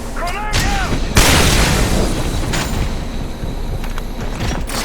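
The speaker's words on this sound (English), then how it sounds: "Grenade out!" A grenade explodes in the sci-fi shooter game Section 8: Prejudice, a loud broad boom amid ongoing combat noise and gunfire, with voices calling out over the battle.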